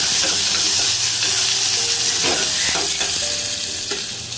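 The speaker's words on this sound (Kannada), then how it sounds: "ಈಗ ಇದಕ್ಕೆ ನಾನು ಹಚ್ಚಿಟ್ಕೊಂಡಿರೋವಂಥ ಆಲೂಗಡ್ಡೆನ ಸೇರಿಸ್ತಾ ಇದ್ದೀನಿ ಸ್ವಲ್ಪ ಎಣ್ಣೆ ನಾನು ಫ್ರೈ ಆಗಲಿ ಆಲೂಗಡ್ಡೆ" Cut potatoes frying in hot oil with mustard seeds and curry leaves, a loud, close, continuous sizzle broken by a few stirring scrapes.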